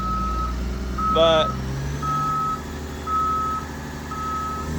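An end dump truck's reversing alarm beeps at a steady one-per-second rhythm over a low engine rumble, with a short burst of speech partway through.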